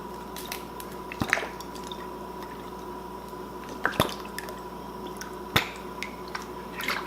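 Fresh limes squeezed by hand for pickle brine, a few sharp wet squishes spaced several seconds apart over a faint steady hum, close and alone.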